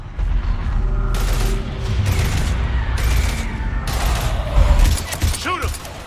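Bursts of gunfire in Mass Effect 3 crackle in several sustained volleys against a steady rumbling battle backdrop, with a sharp whine near the end.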